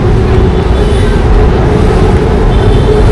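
An electric train passes in Thailand with a steady, loud rumble of wheels on rail that fills the whole clip, close and continuous with no talk.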